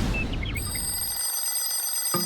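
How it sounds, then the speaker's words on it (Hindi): An alarm clock rings in a bedroom with bright, sustained high-pitched tones that stand out over a steady background hum for about two seconds, joined by a brief knock near the end. "ठीक है, मैं उठ गया। बेवकूफ अलार्म।"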